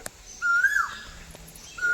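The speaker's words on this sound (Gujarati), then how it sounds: "ત્યાં બોલે કોયલ" An Asian koel calls near a temple, a clear rising whistled note followed by another starting at the end, over quiet background.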